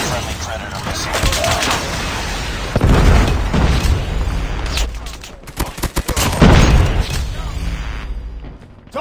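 Explosions and booming blasts from a predator missile strike in Call of Duty, mixed with dense bursts of gunfire over continuous loud game action, with heavy impacts near three and six seconds.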